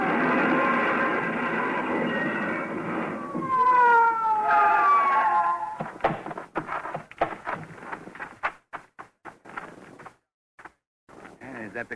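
A police car siren wailing in a radio-drama pursuit, rising and falling tones that hold loudly for several seconds before giving way to clattering sounds and voices.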